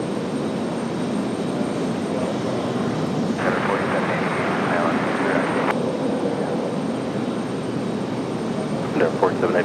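A Delta airliner approaches RDU airport in Raleigh, a steady distant engine roar that swells into a louder, brighter whine for a few seconds before settling back, with no one speaking.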